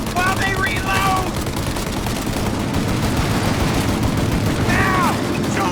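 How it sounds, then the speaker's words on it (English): Gunfire in the video game Mafia: Definitive Edition, dense sustained bursts of shots in a loud continuous firefight, with a few brief metallic ricochet-like whines layered over the rumble. "Shoot out their gun when there's a break in the fire!"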